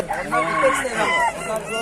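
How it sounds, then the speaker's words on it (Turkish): A rooster crows loudly and close by at a bird market in Izmir, a drawn-out call over other clucking ornamental chickens, with faint voices in the background. "Burada böyle süs tavukları."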